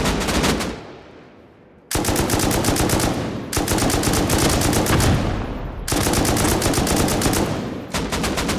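Automatic rifle fire in an online shooter game, including an AK, comes in long, loud sustained bursts separated by brief pauses, with each burst a rapid rattling stream of close shots.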